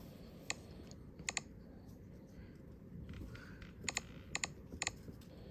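Computer keyboard keys click in small scattered bursts of two or three taps, faint and close, over a steady low background hum.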